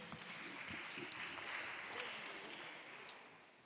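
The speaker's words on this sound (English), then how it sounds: "Clap for them" Applause from the audience at a school science and maths quiz competition, a steady wash of clapping that stays fairly faint and distant throughout.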